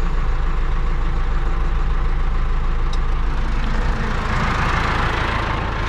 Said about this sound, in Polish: Ciągnik niech się grzeje.